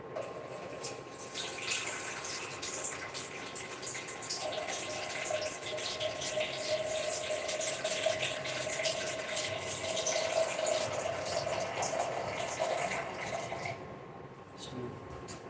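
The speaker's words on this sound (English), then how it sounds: "Let me add some water to it." Water pours steadily into a cooking pot over a stove for a long, continuous stretch, a close, gushing fill that holds an even level before tapering off near the end.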